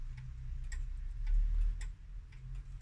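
A Zenith pendulum clock ticks close by, its even, regular beats sounding alone over a low background hum.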